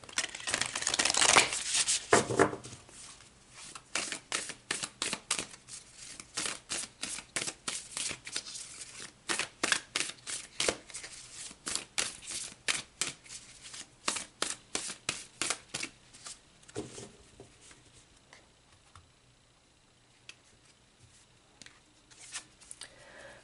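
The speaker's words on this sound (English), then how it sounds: "Let's pull some more cards." Tarot or oracle cards being shuffled by hand, a long run of crisp, rapid riffling flicks and slaps that starts dense and loud, then thins into separate snaps that fade toward the end, with no talking.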